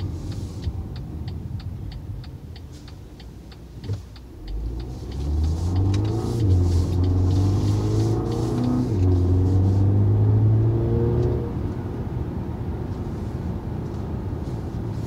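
A 2018 BMW X2 M Sport accelerates on the road, its engine note swelling into a steady mid-pitched drone that holds for several seconds before easing back under road and cabin noise.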